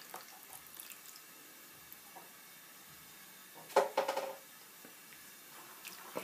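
A glass of milk poured into a mixing bowl of ingredients, a short burst of liquid splashing and gurgling in the middle, faint light clinks and kitchen sounds around it.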